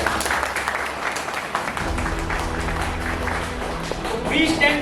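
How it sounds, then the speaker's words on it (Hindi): Audience applause for a product at an MLM training session in India, a dense steady clapping from a crowd that runs the full length and swells slightly near the end, with no speech over it. "तो एक बार हमारे प्रोडक्ट के लिए जोरदार ताली।"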